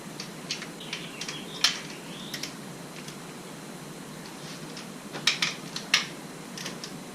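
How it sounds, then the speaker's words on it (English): Ratchet snugging fuel injector bolts on an LT1 Trans Am, heard as a few scattered light metallic clicks and ticks, close but faint over a quiet hiss. "First step is just to snug them with the ratchet."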